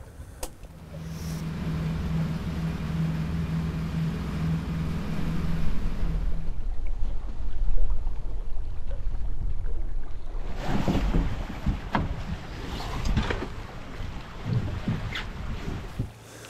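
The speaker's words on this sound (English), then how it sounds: "Let's see if we can motor to that rock." Small motorboat motoring across Alaskan water toward a rock, a steady engine drone with a low hum that drops away midway, leaving wind and water noise before rougher engine and splash sounds return.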